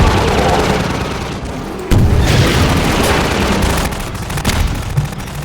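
Half-Life 2 gunship battle on a highway, with loud, dense rumbling booms and bursts of gunfire throughout, several sharp explosive hits standing out over constant combat din.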